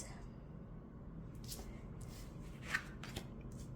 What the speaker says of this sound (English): no issue shuffling this deck. So I can riffle it, I can also overhand it, doesn't stick or clump